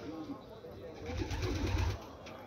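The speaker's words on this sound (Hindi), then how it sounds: "ये भी बहुत प्यारा कबूतर है" Caged pigeons, among them a pair of Grizzle pigeons, give soft low coos at a busy Peshawar bird market, faint and close under a voice speaking Urdu.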